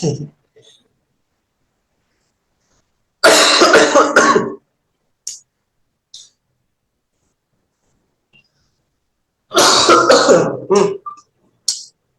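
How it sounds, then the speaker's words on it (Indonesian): Close, loud coughing and throat clearing in two harsh bursts separated by silence, with a few small clicks between them. "Sorry, batuk-batuk doh."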